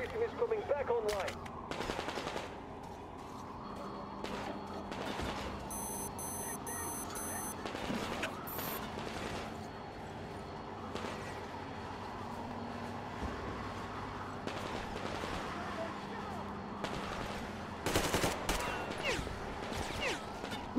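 Bursts of gunfire in the Metro Exodus shooter game, repeated sharp shots and short volleys over a low rumble, with beeping electronic tones and scattered voices in between.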